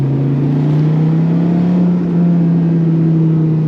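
A Dodge Viper GTS engine drones loudly and steadily from inside the car while driving, a deep sustained growl with its pitch shifting only slightly.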